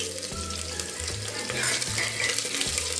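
Chopped onion and curry leaves sizzle steadily in hot oil with popped mustard seeds for radish sambar, a close, continuous crackling fry with faint stirring scrapes underneath.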